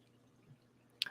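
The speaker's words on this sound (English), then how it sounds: "I heard like water somewhere." A single water drip lands somewhere in the background, a brief sharp plop near the end after faint room hush, quiet and isolated.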